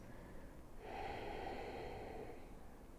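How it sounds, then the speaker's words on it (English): A single slow breath exhaled through the nose during a guided relaxation exercise, soft and close, a long airy rush that swells and fades over about two seconds in an otherwise quiet room. "Exhale all of your breath out"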